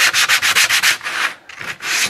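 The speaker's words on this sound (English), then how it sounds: "the bottom, I just take some heavy sandpaper so the silicone has something to stick to" Heavy sandpaper scuffing the underside of a homemade vent part for a Ski-Doo Rev 800 snowmobile, rasping in a steady series of about nine quick, loud strokes, with a short pause before the rubbing resumes.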